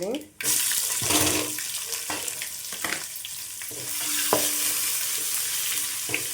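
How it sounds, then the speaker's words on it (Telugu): Onion frying in a pan over medium flame for a tomato and beans curry, a continuous near sizzle with occasional stirring clinks, a voice briefly heard alongside. "ఫ్లేమ్ మీడియంలో ఉంచేసుకొని ఈ విధంగా వేగించుకోండి"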